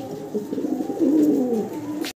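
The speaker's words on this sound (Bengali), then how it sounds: "এই যে ডাক শুনছেন ঘুঘু পাখি" A dove coos once nearby, a soft low warbling call rising then falling over roughly a second, heard against faint background noise.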